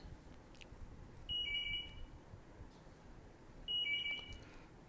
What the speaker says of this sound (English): Phone is ringing, huh?